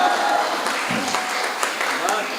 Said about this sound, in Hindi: तो ऐसा झूम के ताली बजाना है कि कवियों को भी लगना चाहिए